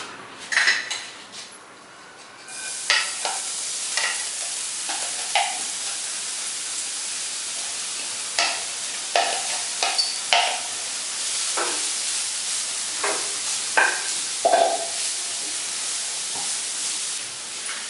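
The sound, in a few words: shallow frying grated broccoli in a pan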